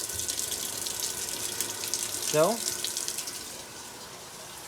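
Water pouring steadily into a washing machine tub inside an RV being unwinterized, a soft continuous faucet-like hiss with a brief spoken word over it.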